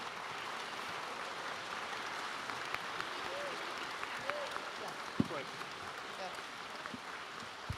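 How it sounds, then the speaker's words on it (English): An audience at MINECON 2015, a Minecraft convention, applauds mod developers with a steady, moderately distant wash of clapping that carries evenly throughout. "give you a round of applause"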